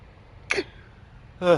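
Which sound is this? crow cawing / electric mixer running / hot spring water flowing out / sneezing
sneezing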